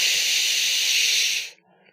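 Loud, sustained hiss of steam bursting from a steam engine's broken safety valve, holding steady for about a second and a half before cutting off sharply into near silence.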